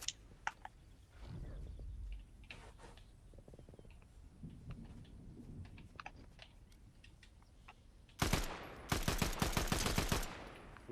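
Rapid bursts of Fortnite gunfire crackle in two loud volleys near the end, after a quieter stretch of scattered clicks and low rumbles.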